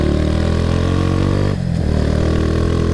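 A Kawasaki W175 SE motorcycle engine runs steadily close by with a dense, even mechanical drone that dips briefly midway before continuing, with no voices over it.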